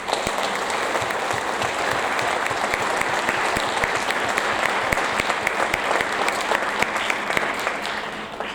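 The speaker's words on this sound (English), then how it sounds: "Let's give them a round of applause." Audience applause at a sixth grade awards ceremony, a sustained, dense wash of many hands clapping at steady loudness throughout, with no talk.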